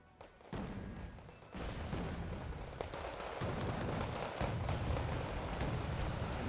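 Infantry gunfire in Wargame Red Dragon, a rumbling battlefield mix of crackling shots and heavier booms, with a sudden surge of noise that keeps building into a dense, continuous roar.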